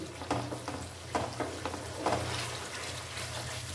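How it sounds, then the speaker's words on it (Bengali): A spoon works an apple sandesh mixture around a pan over a medium-to-high flame, producing intermittent scraping stirs over a steady low sizzle, fairly quiet with no voices. "মিডিয়াম ফ্লেম, মাঝে মাঝে ফুল ফ্লেম করে দিচ্ছি, দিয়ে এইভাবে নাড়াচাড়া করে যাচ্ছি"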